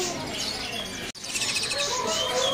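Dark loper canaries chirp and trill in quick, bright bursts, several birds overlapping close by, with a brief dropout in the middle before the twittering resumes.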